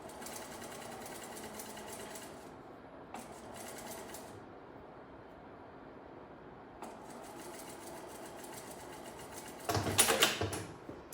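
A sewing machine edge-stitches a patch pocket on medical scrubs. It hums in a continuous run with brief stops, and a louder burst of stitching comes near the end. No one speaks.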